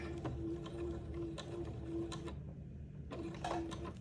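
A sewing machine runs continuously as it stitches back and forth to tack ribbon on a dress, a steady mechanical whir with a rhythmic hum and a brief drop in pitch partway through.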